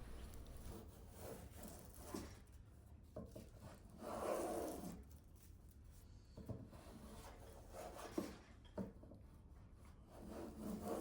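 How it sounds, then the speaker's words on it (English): A Shinto saw rasp filing wood on a handmade guitar, quiet close rasping strokes in irregular bursts, some longer and grittier, with pauses between, no talking. "This is the Shinto Saw Rasp. This thing removes material like nothing else."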